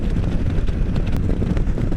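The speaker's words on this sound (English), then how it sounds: "it's extremely windy, but the wind's to my back" Steady, heavy wind roars and buffets the microphone throughout during a ride, a dense low rumble with no breaks, loud and close.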